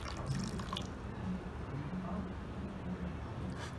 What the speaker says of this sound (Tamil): இப்போ தண்ணி இந்த ரோஸில் இப்போ நான் ஊற்றுறேன்